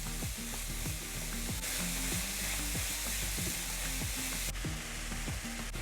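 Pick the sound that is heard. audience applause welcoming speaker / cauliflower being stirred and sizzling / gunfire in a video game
cauliflower being stirred and sizzling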